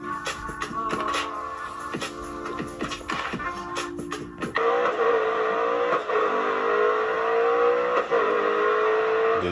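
A race car engine in a driving sim video game drones steadily, its pitch rising and shifting through gear changes, loud and continuous with a sharper jump partway through; no talking.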